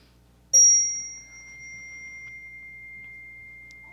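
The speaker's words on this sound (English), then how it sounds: "I'm going to ring the bell." A single bright bell strike rings out once and its clear tone slowly fades into quiet.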